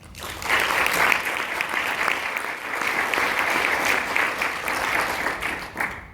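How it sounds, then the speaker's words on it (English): An audience at a community opening-day event gives a sustained round of applause for the organizers, dense and steady for about six seconds with no talk over it. "So if we can give them one more applause."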